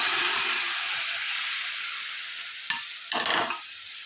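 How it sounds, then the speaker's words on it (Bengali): Hot water poured into sautéed vegetables in a pressure cooker for a simple fish curry, a steady hiss fading gradually, then two sharp bursts of splashing sizzle near the end. "গরম জলটা এই যে এখানে যে জলটা আছে প্রেশারে আমি ওর মধ্যে ঢেলে দিলাম"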